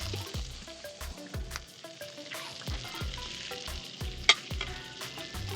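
Bacon cheeseburgers sizzle and fry in a pan, a continuous crackling hiss broken by repeated scraping and clanking of a utensil against the pan, with no talking.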